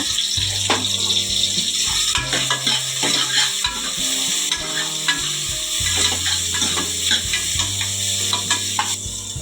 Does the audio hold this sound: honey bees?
no